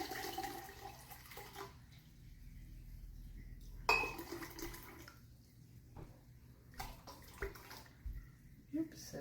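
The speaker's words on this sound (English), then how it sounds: "I'm going to get 750 grams of water into this measuring cup." Water runs from a tap into a measuring cup for sourdough bread dough, heard in several bursts of pouring with clinks of the cup and kitchen handling in between.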